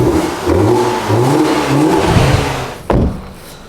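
A BMW E46 318i with a modified intake revs hard twice, a loud, near, rising engine roar with a short pause before a final sharp blip.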